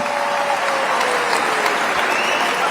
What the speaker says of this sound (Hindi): तालियां बोलने के बाद ही बजाओगे क्या आप यार?